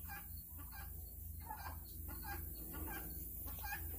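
Chickens cluck softly and repeatedly on a Texas farm, including a broody hen, with a steady low hum of background noise underneath.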